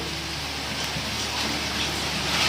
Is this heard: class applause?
no